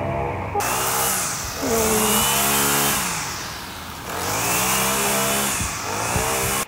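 A grass cutter's small engine runs loud and close, its pitch rising and falling in repeated revving surges as the throttle is worked, with no voices.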